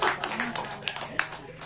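An audience at a book launch claps briefly in a scattered burst of hand claps, with talk mixed in.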